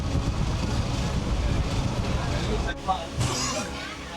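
Passenger train rolling along a line in Tamil Nadu, giving a steady, dense rumble throughout with voices talking over it; the noise eases briefly near the end.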